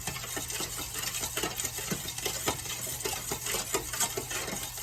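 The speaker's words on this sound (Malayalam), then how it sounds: "ഇത് ഇളക്കിക്കൊണ്ടിരിക്കുവാണ് നമ്മൾ" Sugar syrup is stirred in a thick-bottomed pan for crispy diamond cuts, a close, steady rhythm of scraping and swishing strokes against the pan with no talking.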